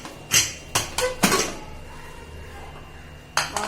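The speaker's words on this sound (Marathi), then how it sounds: "कुकर तर थंड झाला असेल. आता बघूया झाकण." Metal clanks of a pressure cooker lid being handled and opened in a home kitchen: several sharp, close knocks in quick succession, a quiet pause, then two more clinks at the end.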